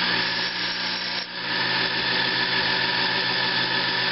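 Small Sherline lathe turning a part for an antique engine fuel pump, a steady continuous cutting whir and hum with a brief dip near the middle, close and alone without talk.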